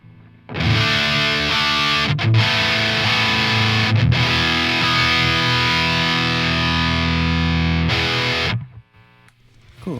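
Heavily distorted metal electric guitar played through a free amp simulator with an impulse response, red channel on modern voicing, chugging loud and dense for about eight seconds with two brief gaps, then cutting off to near silence.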